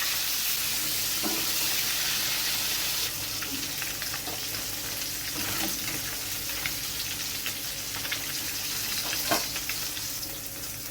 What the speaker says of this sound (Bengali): যতক্ষণে মাছটা ভাজা হচ্ছে আমি কালুনের পেস্ট বানিয়ে নেব